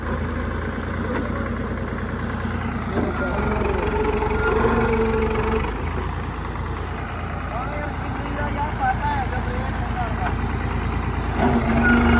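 A steady tractor engine, a 3630, rumbles continuously, idling and running at a moderate level, with voices talking over it throughout.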